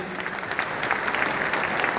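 A crowd at an indoor gathering applauds loudly and continuously, a dense wash of clapping with no pauses across the brief moment.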